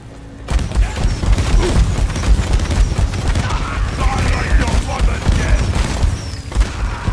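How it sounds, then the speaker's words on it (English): Explosions boom and crackle in the video game Deep Rock Galactic, a dense, loud, sustained barrage of blasts and rumbling gunfire with faint voices underneath. "I hear all the explosions up there."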